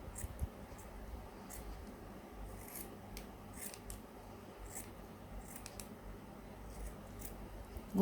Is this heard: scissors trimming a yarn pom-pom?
yes